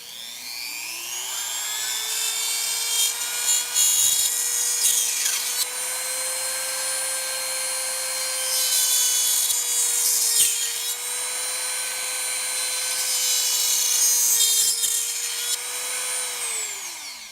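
Plastic drone propeller for a Shendrones Squirt being trimmed with a small powered tool: a steady, close, high whine that rises at the start, holds for the whole stretch with slight wavering, and drops away at the end, with no talk.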